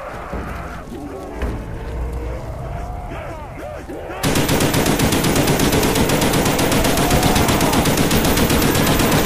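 Sustained automatic gunfire in Call of Duty Nazi Zombies rattles in a dense, loud stream, growing heavier and harsher midway, with talking and game noise underneath.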